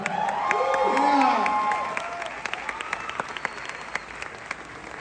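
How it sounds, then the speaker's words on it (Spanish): A theatre audience at a musical's 200th performance breaks into loud, dense applause that swells and then tapers into scattered clapping, with voices talking over it. "El aplauso súper fuerte para Jimena Cornejo y Lucía."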